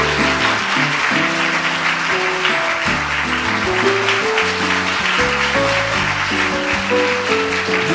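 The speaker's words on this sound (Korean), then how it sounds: "Ed Lyman 나오실 때 뜨거운 환영의 박수 부탁드릴게요." Audience applause welcoming speaker Ed Lyman onto the stage, a continuous bed of clapping heard together with loud stepped instrumental music throughout.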